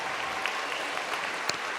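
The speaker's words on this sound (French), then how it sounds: "Je vous demande de les applaudir bien plus fort que ça" Dense audience applause at a French New Year's greetings ceremony, a continuous wash of clapping from a crowd with no break.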